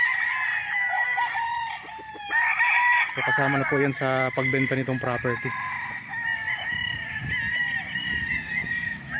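Gamecocks trained for fighting crow and cluck repeatedly on a fenced farm lot in Pagsanjan, Laguna, fairly close and overlapping, while someone talks throughout.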